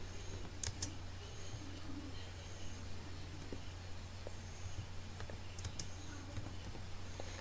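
Faint, light tapping of keys on a computer keyboard, a few scattered clicks over a steady low hum in a quiet room.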